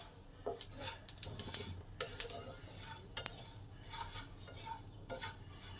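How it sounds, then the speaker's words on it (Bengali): Whole spices dry-roasting in a pan for mango pickle, crackling softly with scattered small pops and light scrapes of stirring over a faint low hiss, fairly quiet and close, with no one speaking. "এই যে পটপট করে আওয়াজ হলে বুঝে যাবেন যে মশলাটা ভাজা হয়ে এসেছে।"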